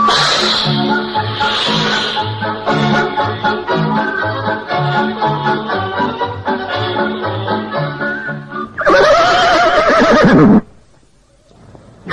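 A horse-neighing sound effect for an audio drama: a steady rhythmic clopping pattern runs for several seconds, then a loud, close whinny rises and falls near the end before cutting off.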